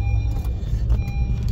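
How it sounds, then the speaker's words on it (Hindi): Cars stuck in a traffic jam on a road, a dense low rumble of idling engines that stays steady and close throughout, with no talking. "यहाँ पे जाम भी बहुत है"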